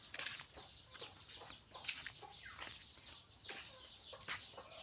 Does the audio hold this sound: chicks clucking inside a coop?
yes